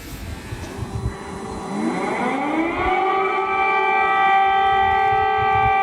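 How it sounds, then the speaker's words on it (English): An air raid siren in a wartime Ukrainian town winds up from a low growl to a steady, loud wail that holds near a constant pitch, heard outdoors over faint background rumble with no speech. "I'm going back because it's an air siren, an air alert."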